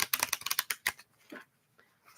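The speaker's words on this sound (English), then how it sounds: "That was a good shuffle." Tarot cards shuffled in quick riffling bursts, a dense run of crisp papery flicks for about a second, then a few softer scattered slides and taps.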